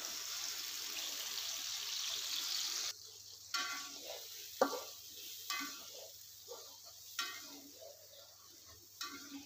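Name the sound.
spice paste sizzling as it is stirred into hot oil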